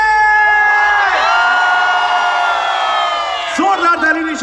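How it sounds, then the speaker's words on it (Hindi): Loud crowd cheering and whooping at an outdoor qawwali night at Port Grand, Karachi, sustained shouts and sung-out voices overlapping, with a burst of fresh yells near the end. "1 2 3 मेक सम नॉइज कराची।"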